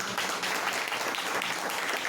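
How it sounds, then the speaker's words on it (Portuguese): A congregation applauds during a church anniversary service, a thick, steady wash of many hands clapping with no break, moderately loud. "Aplaude ao Senhor Jesus"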